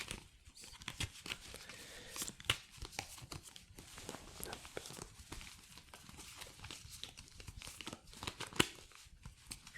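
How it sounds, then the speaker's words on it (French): Playing cards shuffled at a casino-themed table, a quiet close-up sequence of soft riffles, flicks and crisp papery snaps at an irregular pace, with faint low sounds in the background. "je vais mélanger les cartes"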